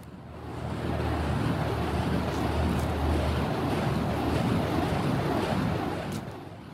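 A lit fire staff with fresh soaked wicks spins steadily, making a continuous whooshing roar that swells in, holds for several seconds and fades out.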